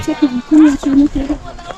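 Sheep bleat several times in quick succession at a hillside sheep farm at Mon Jam, Chiang Mai, close and loud, with a feeding crowd nearby and people talking faintly in the background.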